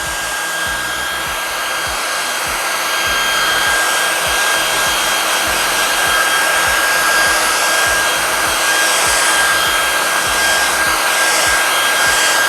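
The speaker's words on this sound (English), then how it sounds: "You want to move your dryer around to keep all the areas dry." A hair dryer blows steadily and loudly, with a continuous whooshing roar and a thin high motor whine throughout, no voices present.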